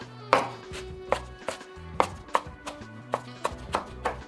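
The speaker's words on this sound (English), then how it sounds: "when I get down to this bottom part, I just give it a quick chop" Kale is chopped with a knife on a cutting board, a run of about a dozen sharp, close thuds in an uneven rhythm with no talking.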